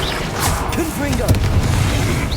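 A Confringo blasting spell in Hogwarts Legacy lets out a loud booming burst with crackling debris, following a spoken incantation over a busy game soundscape.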